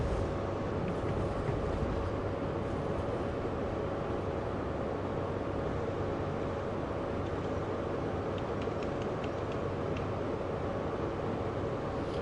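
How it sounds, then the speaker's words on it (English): A steady, loud, continuous rumbling roar of an HST train passing close by in the Train Sim World video game, unbroken throughout with a faint hum over it. "There's a train just passing me, and my signal's now gone to yellow."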